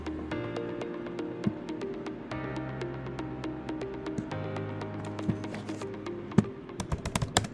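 Keys tapping on a computer keyboard as a mobile number is entered, a steady run of light clicks close by with a faint hum underneath and a few sharper taps near the end.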